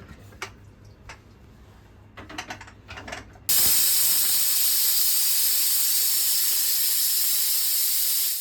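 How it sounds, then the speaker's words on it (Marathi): After a few soft mechanical clicks, a pressure cooker whistle bursts into a loud, steady, close hiss that continues unbroken to the end. "ही सिटी वाजते रे हा मग अरे एक तास झाला"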